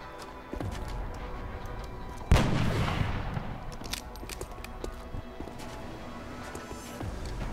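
A sharp, heavy gunshot in the video game XCOM Enemy Within, one loud blast with a booming tail, set over continuous game ambience with scattered faint clicks and thuds.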